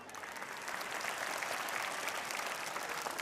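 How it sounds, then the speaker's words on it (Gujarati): Sustained applause from an audience at a school fancy-dress event for young children, steady and dense clapping that fills the whole stretch without voices on top. "તેઓના પ્રયત્નોને તાળીઓથી વધાવીએ"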